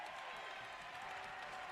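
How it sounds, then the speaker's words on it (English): A crowd in a gym at a Streetsboro vs. Woodridge high school boys' varsity basketball game cheers and claps in a continuous, fairly faint wash of noise from the stands. "You can hear the crowd here."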